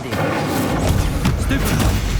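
The Incendio fire spell is cast in the Hogwarts Legacy video game, producing loud booming, thudding blasts over a dense rumble, with voices under the blasts.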